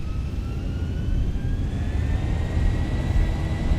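Boeing 737-800 engines in X-Plane 11 spool up to takeoff power with a loud, steady low roar and a thin rising whine, without any talk.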